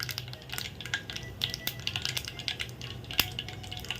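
Mustard seeds, urad dal and cumin being tempered in hot oil in a pan, giving a steady crackle and sizzle with scattered pops and clinks of a utensil against the pan, close and moderately loud, with no talking.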